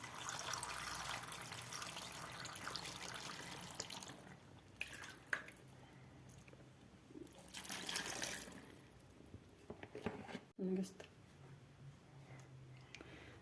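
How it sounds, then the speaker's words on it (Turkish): Pickle brine mix pours into a 10 kg plastic jug, a continuous splashing trickle that fades and swells in uneven bursts, with a brief clunk near the end, close and moderately quiet. "Böyle bidonuma boşaltıyorum."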